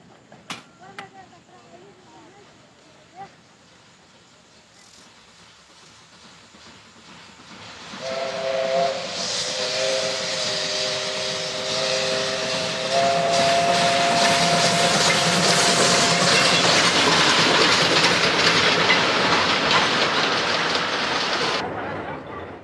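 A steam locomotive on the Amazon railway in Rondônia, Brazil, blows a loud sustained whistle and then hisses heavily with steam as it runs. Quieter rumbling and knocks come first, and narration plays under part of it.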